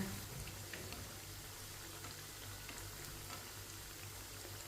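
Chicken tikki frying in oil over medium heat, a steady, faint, even sizzle with soft crackle running throughout under a low hum, no voices.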